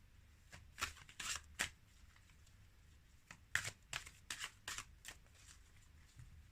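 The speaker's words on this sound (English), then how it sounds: "a nice long shuffle for Gemini" A long shuffle of tarot reading cards: repeated crisp riffling bursts in two clusters with short pauses between, close and fairly quiet, with no talking.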